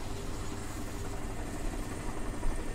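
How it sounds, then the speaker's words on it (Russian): Helicopter in the video game Crysis, a steady broadband rotor and engine drone that holds constant and fairly loud for a few seconds with no voices over it. "Вертолет мне... Пошел нахрен."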